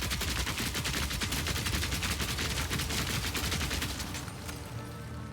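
Rapid, continuous shooting in the action game Path of Exile 2, a dense loud barrage of repeated shots running almost without pause before easing off slightly near the end.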